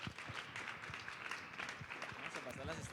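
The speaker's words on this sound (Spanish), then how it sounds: "Démosle un aplauso a Daniel Ramos." Audience applause at a panel talk on truth and the philosophy of history, a steady wash of clapping from the crowd with some voices mixed in underneath.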